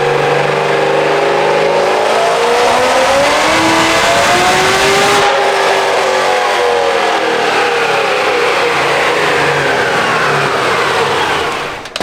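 Supercharged LSA V8 in a Chevy SS revs hard on a hub dyno indoors, its loud, sustained engine note climbing in pitch, easing back, then building again across a full pull before cutting off abruptly.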